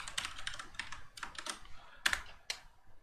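A password is typed on a computer keyboard in a short, uneven burst of close, crisp key clicks, with a few louder taps near the end.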